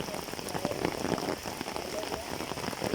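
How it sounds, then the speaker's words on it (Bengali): Moderate rain falls steadily during the monsoon season in rural Bangladesh, with a continuous dense patter of drops on surfaces, close and even throughout, with no voices. "মোটামুটি বৃষ্টি হচ্ছে"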